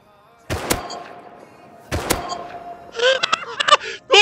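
In the game Rust, two sharp gunshots crack about a second and a half apart, loud and close, each with a ringing tail, followed by a clatter of short in-game effects.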